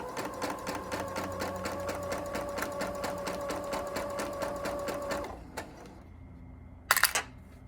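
A sewing machine stitches quilt fabric with a fast, steady, close mechanical chatter for about five seconds, then stops, and a brief clack follows.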